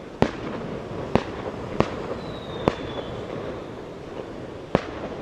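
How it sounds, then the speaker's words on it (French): Firecrackers set off on a street in China during a festival, sharp isolated bangs at irregular intervals, some distant and some closer, over a steady background hum. "pour chasser les mauvais esprits, ils envoient des pétards"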